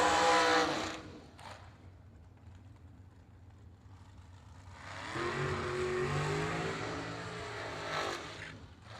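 Race cars on a slow lap roar past in broad swells, a loud pass at the start and another longer rushing pass midway, with quieter engine drone between.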